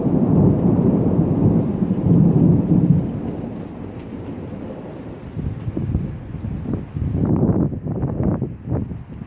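A thunderstorm rolls over a darkened neighborhood after a power outage, with deep rumbling thunder over a steady wash of rain, loud and close, and no talking.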